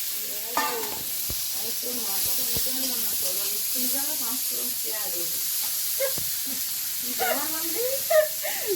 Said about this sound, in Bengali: মাছ আবার আমি এদিকে ভাজতে লাগছি